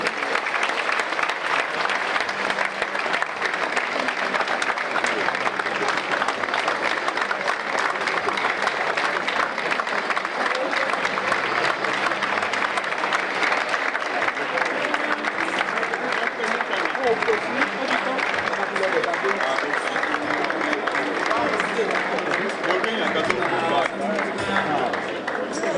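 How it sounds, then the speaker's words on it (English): A large audience at a public lecture applauds continuously and loudly for survivors of terror and corruption, a dense, even wash of clapping that never lets up. "turn to your neighbor and applaud our terror and corruption survivors"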